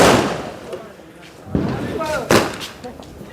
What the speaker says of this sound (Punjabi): ਉੱਪਰ ਉੱਪਰ ਜਾ ਕੇ ਵੱਜਦਾ ਹੀ ਇਹ ਪਟਾਕਾ